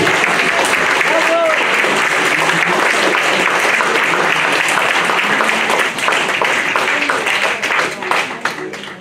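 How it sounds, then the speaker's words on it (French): Loud, dense applause fills a ceremony hall as the Gaillarde d'Argent honour goes to Mariette Delahaut; many hands clap continuously and close, tapering slightly near the end. "Ça vaut bien de nouveau un petit applaudissement"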